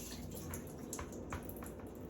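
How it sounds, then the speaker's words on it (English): Ground turkey being rinsed under running water, a steady broadband wash of tap water with a few brief splashy bursts, close and continuous with no talk. "I just rinsed it off with a little bit of water"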